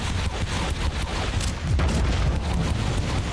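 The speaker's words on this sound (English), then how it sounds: "when's that grenade going off, my guy?" A grenade goes off in Warhammer 40K: Inquisitor - Martyr, giving a loud, dense rumbling blast under a steady barrage of booms that carries through the whole stretch without pause.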